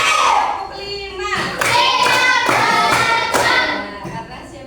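Children in a classroom clapping hands in short rhythmic bursts, with a few loud group claps separated by brief pauses, close and lively, with children's voices calling out between the claps.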